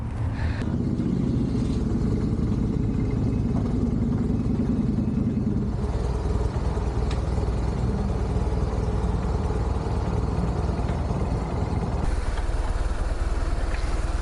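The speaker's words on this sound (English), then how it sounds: "Harley-Davidson with a Porsche motor. That's the baddest Harley-Davidson's ever made." A Harley-Davidson motorcycle fitted with a Porsche engine rides on an Oregon road, its engine holding a steady, loud drone with a rough low rumble throughout, shifting tone midway and again near the end, with wind noise and no talking.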